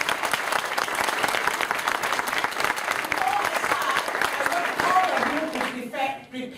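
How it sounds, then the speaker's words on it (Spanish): Seminar audience applauding at a health talk, loud dense clapping that runs for several seconds before tapering off, with talk mixed in and more talk near the end. "Give yourself a big applause in here because you care for your health."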